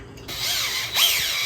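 A cordless power drill drives a screw into a DeWalt portable miter saw stand, a close, steady high-pitched motor whine lasting about a second with a brief pitch dip as it bites.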